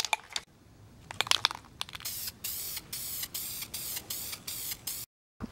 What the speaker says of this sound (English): And all you gotta do is just spray it on.